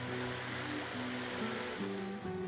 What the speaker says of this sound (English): I do love the ambient sounds that are like around the world. Like this water.